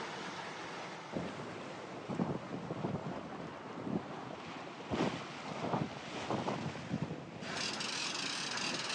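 Steady wind rushes past a sailing boat surfing along at 8 knots in the Maddalena Archipelago, with water swishing and gusts rising in bursts, then a sharper, brighter wind roar near the end.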